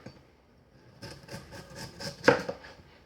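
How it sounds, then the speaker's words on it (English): A knife cuts thin slices of sweet potato on a board, several soft crisp cuts building to one sharp, louder chop near the end, close up with no talk. "Just cut really nice and thinly into the sweet potato"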